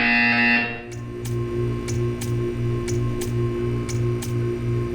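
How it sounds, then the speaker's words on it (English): In the Portal 2: Community Edition video game, a bright electronic tone cuts off and gives way to a low pulsing buzzer that repeats in a steady rhythm alongside sharp ticking clicks, loud and close with no talking. "You will hear a buzzer."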